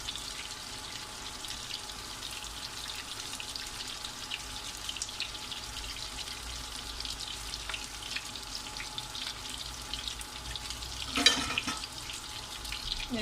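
Tuna fish cutlets, coated with egg, frying in a pan, a steady low hiss and crackle of oil running throughout with a brief louder burst of sizzling near the end, no voices.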